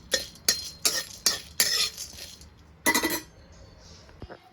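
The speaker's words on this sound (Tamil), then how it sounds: "இப்போ அடுத்தது இது கூட ஏலக்காய் சேர்த்துக்கிறேன். ஏலக்காயும் அதே மாதிரி வறுத்து எடுத்துக்கலாம்." Cardamom is stirred and dry-roasted in a pan, heard as a series of sharp scraping and clinking strokes of a spoon against metal, followed by a pause, one more scrape and a faint knock.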